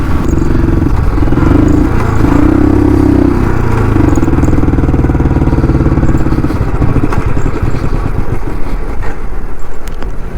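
A Royal Enfield 350 BS6 motorcycle on a mileage-test ride, its loud, steady thumping engine close and continuous throughout, with road and wind noise and no speech.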